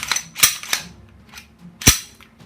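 Smith & Wesson M&P9 pistol being handled during a safety check, with a series of sharp metallic clacks as the slide is racked, the two loudest snaps spaced over a second apart with lighter clicks between, close and crisp.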